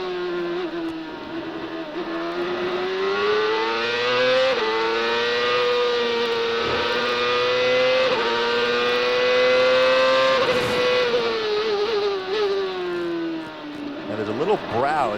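CART open-wheel race cars at Road America during 2002 Saturday qualifying, a sustained high-pitched engine scream holding steady and shifting pitch through the carousel corner, loud and continuous, with a commentator talking over it.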